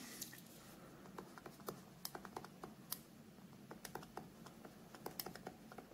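A USI stylus pen writes quickly on the screen of a Lenovo IdeaPad Duet Chromebook, making faint, irregular clicks and taps in quick bursts.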